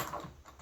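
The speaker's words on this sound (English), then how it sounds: "what we're going to do is switch out the foot on the sewing machine" Sewing machine presser foot being swapped out during a seam-finishing lesson: a short run of small mechanical clicks and metal-on-metal fiddling, fairly close and quiet, with no talk.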